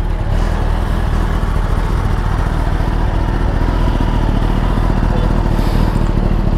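A motorcycle with its stock exhaust runs steadily up close, a loud, continuous engine drone with no pauses, while people talk faintly underneath.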